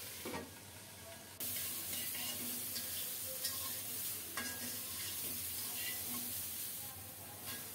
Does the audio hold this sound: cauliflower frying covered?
yes